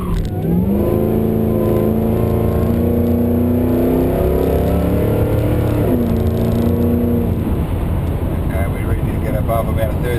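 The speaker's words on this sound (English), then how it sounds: "probably half throttle on the initial where it spun the wheels, lifted, picked up second" A supercharged LS1 VZ ute launches hard from standstill with spinning wheels, its engine revving loud and close in rising sweeps through the gears, a brief dip at a lift, then a rougher roar, with voices under it.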